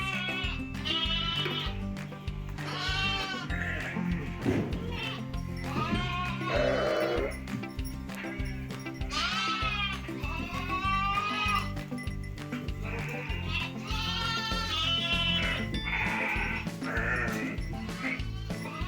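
A flock of sheep bleats continuously while being fed with feed in a village farmyard, many overlapping calls near and far with no talk.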